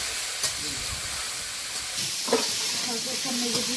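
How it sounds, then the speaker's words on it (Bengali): Okra frying in a pan with turmeric, giving a steady loud hiss and sizzle throughout, with a few soft stirring knocks, close up. "ঢেঁড়সটা মাঝে মাঝে একটু করে ভাজতে হবে আর এইভাবে ভাজতে"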